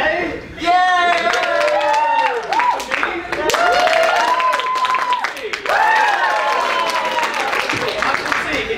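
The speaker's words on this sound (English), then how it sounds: "we're going to vote by applause." An improv comedy audience cheers and claps to vote on an option, with loud whoops and shouts standing out over a patter of clapping and the voices rising and falling in waves.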